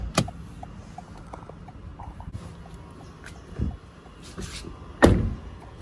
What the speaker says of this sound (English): Let's open up the fuel door